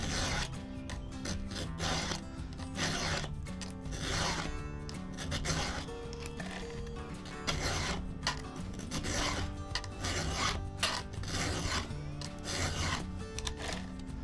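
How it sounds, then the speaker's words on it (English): A metal file rasps against chainsaw teeth in steady back-and-forth strokes. The rhythm is even, close up and fairly quiet, with no talking. "That is all there is to sharpening the teeth on your chainsaw"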